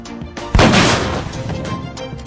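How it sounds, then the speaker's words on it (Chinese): A shotgun blast in a movie scene: one sharp, loud boom followed by a long rumbling decay and debris-like clatter, up close. "莫斯提着霰弹枪疯狂扫射"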